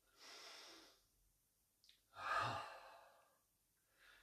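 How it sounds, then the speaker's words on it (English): A deep breath in, then an audible open-mouthed exhale like a soft "ah" during a yoga breathing exercise. Two or three distinct breath sounds come in slow succession, close and fairly quiet, with no talking. "inhale fully, on the exhale like an audible ah"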